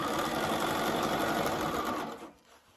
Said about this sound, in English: You're only going to stitch through the fly or that curved fly piece.